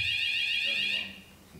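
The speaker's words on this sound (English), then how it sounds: "The alarm is here." A fire alarm sounds indoors at a shipping forum conference, giving a shrill, loud, steady high-pitched tone for about a second before cutting off, leaving quiet room noise.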